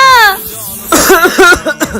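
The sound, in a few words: coughing caused by a prank spray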